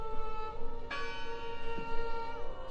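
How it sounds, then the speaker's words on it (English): Church bell in the video game Draugen, a single resonant strike that rings on with a long sustained hum, clear and alone without voices. "I heard the bell."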